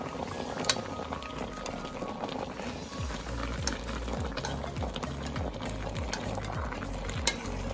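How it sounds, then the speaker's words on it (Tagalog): Spicy tuna in coconut milk boiling in a pot, constant bubbling and popping close by, with a low steady rumble underneath. "Kumukulo na siya."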